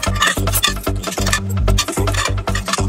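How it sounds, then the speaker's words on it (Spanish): Metal cutlery is dropped into a pot of water in a kitchen, making a rapid run of close, bright clinks and clatters that is loud and dense, with no voices. "Colocamos los cubiertos."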